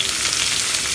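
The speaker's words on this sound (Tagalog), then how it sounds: "kinisa na po natin yung ating ginger, bawang, sibuyas." Ginger, garlic and onion sauté in a hot pan with a loud, close, continuous sizzle that lasts only a moment.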